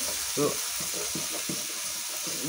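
Spice paste for a Bengali-style duck curry fries in a pan with a constant close sizzle, broken by a regular series of soft stirring scrapes and knocks.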